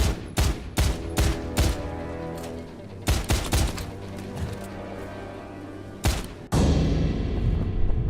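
Gunfire in Stranglehold comes as loud bursts of shots in quick volleys, with a few pauses between them and a long sustained burst near the end.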